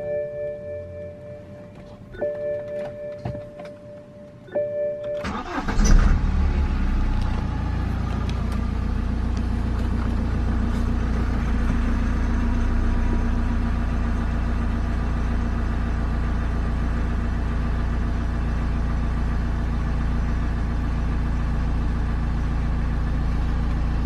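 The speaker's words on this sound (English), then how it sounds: "we'll start the engine." BMW N47/N57 diesel engine cranking and firing up after a few faint clicks, then settling into a steady, close, clattering idle that runs alone for the rest of the clip.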